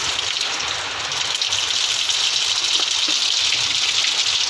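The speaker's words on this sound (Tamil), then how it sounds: "மழை எப்படி பெய்யுது பார்த்தியா" Heavy rain pouring down in a steady, dense hiss, loud and close, continuing without a break and with no one speaking.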